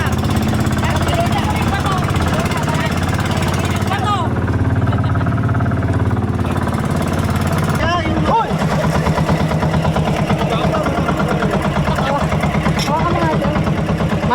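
A boat engine runs steadily on an ocean outing for sea urchin hunting, a continuous low mechanical drone with a rapid rattling pulse, heard close and loud beneath people chatting.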